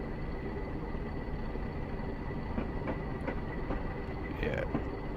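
A Class 40 diesel locomotive running in Train Simulator Classic between Ipswich and Shenfield, a steady loud rumble with faint rhythmic wheel clicks and a brief squeal near the end, no voices.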